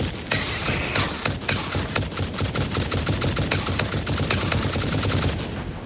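Rapid automatic gunfire from the factory-building game Satisfactory, a dense, loud burst of shots fired in quick succession that runs steadily for several seconds with no talk over it.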